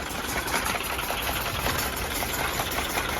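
A tractor-mounted slasher runs with its PTO engaged, its blade driven back and forth by a pitman arm, making a steady loud mechanical drone with rapid rattling vibration throughout, no voices.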